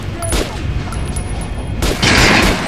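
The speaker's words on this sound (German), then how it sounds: "Probier es mitten auf die Brust der normalen Attrappe zu schießen." Gunshots hit a training dummy in Metro: Last Light: loud, echoing weapon blasts, with one sharp report early and a heavier boom near the end, over constant low game ambience.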